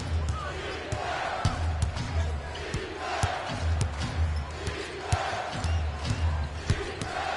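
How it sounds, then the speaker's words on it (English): Basketball crowd booing during an NBA Live 19 game with the Rockets on offense: a steady, full arena roar that swells and dips, with sharp ball bounces and court thuds cutting through at intervals. "I'm hearing some boos from the crowd"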